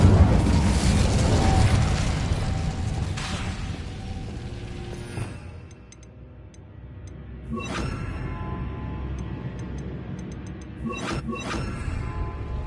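Incendio fire spell blasts in Hogwarts Legacy on PS5: a loud, roaring burst of fire that fades after several seconds, followed by quieter magical chimes and a couple of sharp sparkling hits later on.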